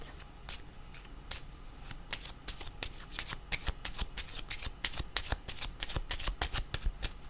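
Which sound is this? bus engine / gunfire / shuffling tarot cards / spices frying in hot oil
shuffling tarot cards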